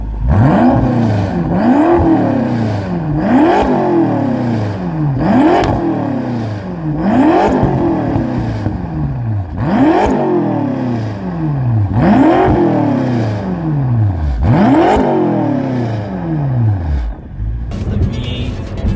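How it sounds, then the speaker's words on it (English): BMW F10 M5 V8 with an M Performance exhaust revving hard over and over, each rise and fall coming in a steady rhythm of about seven pulls, loud and close, with no talk. "The V8 sounds very good. It's a lot better than, you know, than M4 with a 6-cylinder, especially with the M Performance exhaust."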